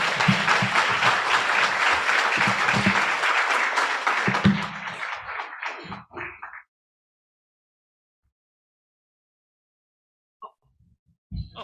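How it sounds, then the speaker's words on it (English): Conference audience gives a strong round of applause for the speakers of an opening session, dense clapping for about six seconds that fades into silence, followed by a few faint sounds near the end. "let's conclude this session by giving a massive round of applause to all speakers for the opening session"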